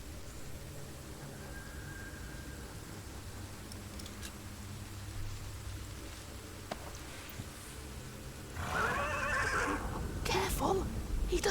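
A horse neighs in a medieval setting from the game The Pillars of the Earth, with a loud whinny near the end over steady background ambience.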